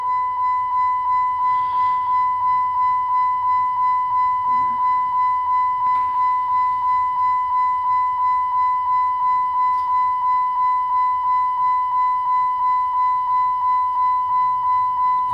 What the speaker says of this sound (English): Sorry about the annoying beeping.